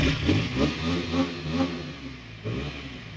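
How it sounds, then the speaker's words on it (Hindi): A KTM Duke 160 motorcycle with a 162 cc engine revs through its exhaust in a series of rhythmic throttle blips, loud and close, with a rough, raw tone and no talking. "ये सुनो एग्जॉस्ट नॉइस।"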